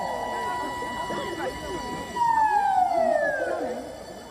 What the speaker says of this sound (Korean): 사이렌 소리가 요란하게 울려댑니다.